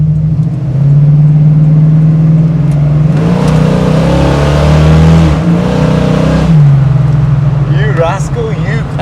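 A 1974 AMC Javelin AMX 401 V8 engine drones steadily, then revs up higher for a few seconds through a gear shift before dropping back to a lower hum, fairly close and loud.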